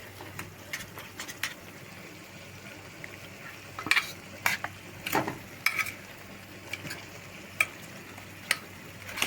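Onion, ginger, garlic and tomato masala is stir-fried in a pan, a low sizzle under repeated clicks and scrapes of a spoon against the metal, some sharp and close.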